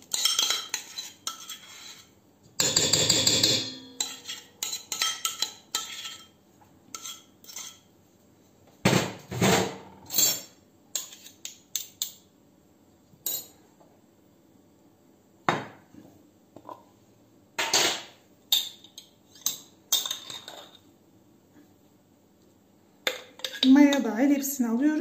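Bread ingredients for a spelt-flour oat loaf (milk, butter, a pinch of salt and yeast) go into a kneading bowl as scattered clinks, clatters and knocks that come in bursts between quiet pauses.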